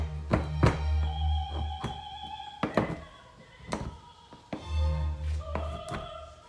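A knife chops through a block of chocolate on a board, giving a series of sharp, irregular thunks and taps close by, with a low musical hum underneath.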